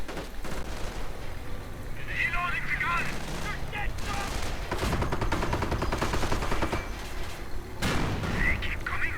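WWII strategy video game battle with rattling gunfire, scattered rifle shots and a sniper crack amid distant booms, layered under a commentator talking.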